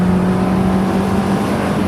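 A four-cylinder sports car engine revving to 9,000 rpm, a loud, steady drone at high revs, a harsh continuous hum with no talking.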